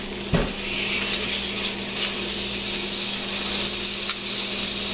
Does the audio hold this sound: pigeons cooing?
no